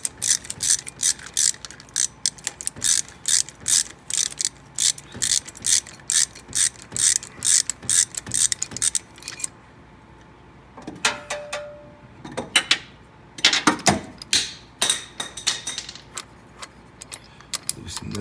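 A ratchet clicks quickly and evenly at close range as a puller is backed off a Dodge 5.9L engine's harmonic balancer, then stops, leaving a few metallic clinks and handling knocks.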